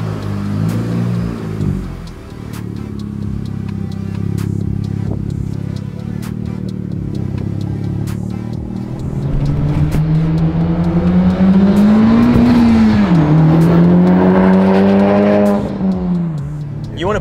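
The engine of a Honda Type R accelerates while driving, a sporty whine climbing steadily in pitch and loudness, easing off briefly, then surging again, heard up close from inside the car.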